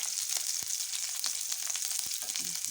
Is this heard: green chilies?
yes